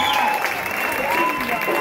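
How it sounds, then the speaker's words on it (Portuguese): An audience gives dense, sustained applause for women performers at a Charanguinha event, with a voice speaking over the clapping. "queria uma grande salva de palmas para a prestação destas mulheres"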